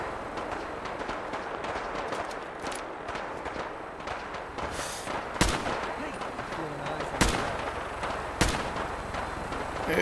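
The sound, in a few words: gunfire in a firefight, Fallout 4 video game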